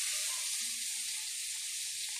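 Butter sizzles steadily in a pan with onion added, a dense hiss that holds evenly and close throughout, with no talking.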